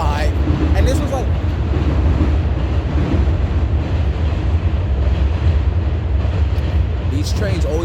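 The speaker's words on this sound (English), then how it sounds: "these trains always want to come when I'm making a video" A train pulls into a station with a loud, steady rumble of rolling cars and wheels that fills the whole stretch, while voices speak briefly over it near the start and end.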